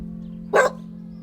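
A dog gives one short, clear bark at close range over a constant low electrical hum, in a home housing people and livestock, built from old wood, concrete blocks and tin roofs.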